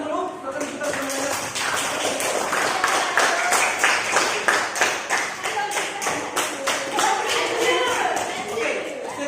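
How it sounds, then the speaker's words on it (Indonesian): An audience claps hands at the close of a school sociology debate competition, a fairly loud, dense patter of many hands with some rhythmic sharp claps, talk mixed in beneath. "kita tepuk tangan dulu"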